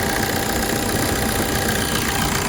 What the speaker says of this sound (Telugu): మీకు ఇంజన్ ఏసీ రన్నింగ్నే చూపిస్తున్నా మీకు.